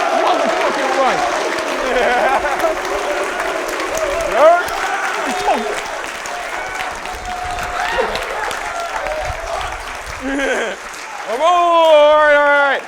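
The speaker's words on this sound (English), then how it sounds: "Give a round of applause for Jason for putting this shit together." An audience bursts into sustained, loud applause and cheering for Jason at a summit, with someone talking over the clapping and voices rising in a louder burst near the end.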